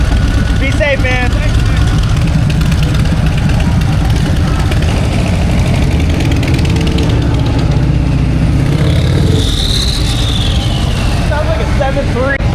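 Turbocharged Harley-Davidson Road Glide motorcycle engine rumbling and revving loudly and steadily outside a saloon, a deep, diesel-like growl running throughout while people talk over it.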